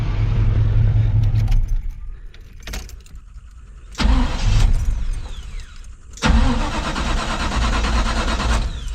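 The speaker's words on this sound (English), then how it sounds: "You gotta give her a little throttle to get her to fire." A 1986 Chevy Caprice engine cranks and fires up close by, with a brief jangle of keys, a few starter attempts and a loud catch into a rough idle with throttle blips.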